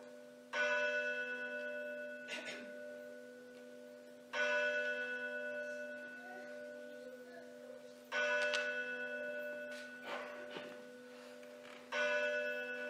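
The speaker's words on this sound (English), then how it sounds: "he heard the bell of a neighboring church strike 4 quarters" A neighboring church bell tolls four times in steady, evenly spaced strikes a few seconds apart, each ringing with a long humming decay that fades before the next blow, heard alone without voices.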